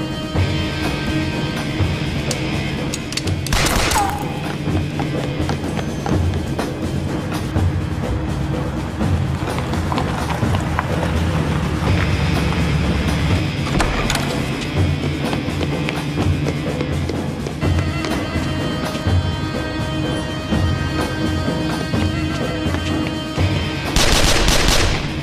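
Gunfire rings out in a television drama action scene where armed men attack temple guards during a ceremony, with sharp bursts of shots near the start and end over a dense, busy background.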